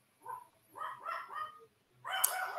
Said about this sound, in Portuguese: Olha esses cachorros, gente.